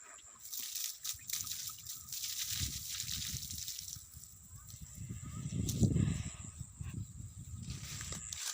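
Leftover water poured out in a village setting, heard as a faint, continuous splashing trickle that swells in the middle, with a steady high hum behind it.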